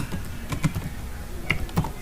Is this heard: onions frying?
no